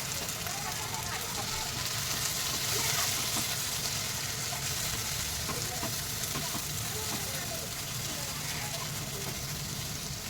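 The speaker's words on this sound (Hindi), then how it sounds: "धनिया पाउडर, ज़ीरा पाउडर, लो फ्लेम करके ये हम मसाला भूनेंगे।" Chili, coriander and cumin powder masala fries on a low flame in a home kitchen, a steady dense sizzle with faint scraping as it is stirred, continuous and close throughout.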